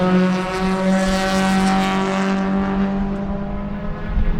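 Race cars at speed during a two-hour endurance race at Sebring produce a loud, sustained engine drone that holds steady and then slowly fades away.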